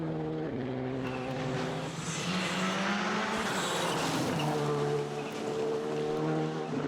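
A Skoda rally car races along a stage of the Rallye des Ardennes in difficult conditions, its engine revving loud and continuous through gear changes with a brief dip in pitch midway.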